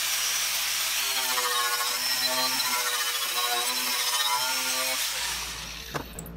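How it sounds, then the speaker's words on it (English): A knotted wire wheel on a power tool grinds rust from metal with a steady, loud, harsh whir that holds for about five seconds, then winds down and stops. "We have a more aggressive wheel. This is the wheels straight out of the sides. These are called knotted wheels."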